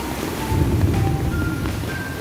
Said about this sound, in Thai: น้ำไหลแรงมากจริง